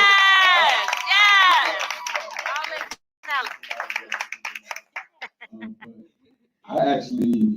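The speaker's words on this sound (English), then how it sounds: "So can y'all give us a round of applause?" An audience at a live debate-style face-off claps and cheers: loud voices and shouts open the moment, then scattered hand claps patter unevenly before a final burst of crowd noise.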